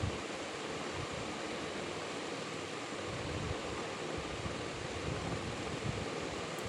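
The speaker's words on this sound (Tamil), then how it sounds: "இப்போ வெங்காயம் கொஞ்சம் நல்லா வதங்கிடுச்சு" Onions sauté in a pan for an egg and tomato thokku, giving a faint, steady, continuous sizzle with no voices.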